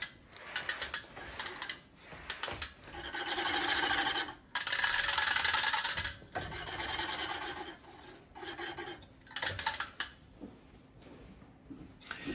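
Rollers of a Ransomes Ajax mower turning on a test run give a close, loud rasping clatter with ratchet-like clicks, in uneven bursts and longer sustained stretches separated by short pauses.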